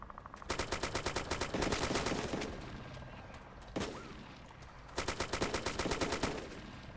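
Rapid automatic gunfire from ARMA 2 DayZ crackles in two sustained bursts with a single sharp shot between them, loud and close.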